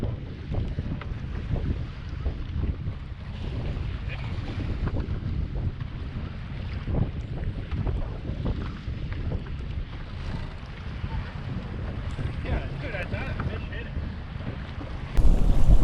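Strong wind buffets the microphone continuously, a loud low rumble that gusts and swirls without letup.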